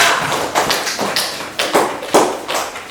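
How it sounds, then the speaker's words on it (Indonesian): Students in a classroom during a mathematics lesson applaud the presenting groups, producing a dense patter of hand claps at close range that swells in uneven waves. "Kita beri aplaus untuk kelompok"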